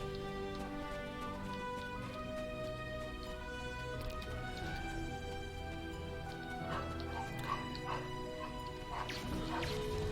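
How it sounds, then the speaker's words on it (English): A pet dog barks and whimpers indoors, with faint, scattered yips and whines over a quiet background of steady tones. "And my dog is awake. That's my dog."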